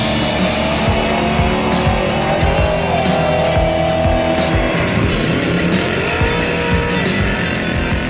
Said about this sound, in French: Quand tu arrives, tu fais le réchauffement de pneus, tu arrives à la lumière.